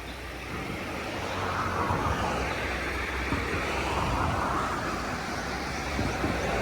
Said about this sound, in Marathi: पाणी, नदी.